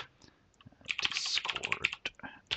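A terminal install command is typed on a computer keyboard for a Linux setup, a quick, close burst of clicking keystrokes in an uneven rhythm.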